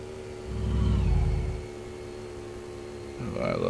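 A car drives in the My Garage game with a steady mid-range engine hum that swells briefly, then settles, and rises again near the end.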